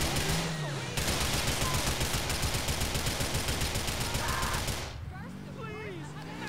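Rapid automatic gunfire in GTA IV rattles continuously for several seconds, loud and steady, then cuts off into quieter ambient game sound.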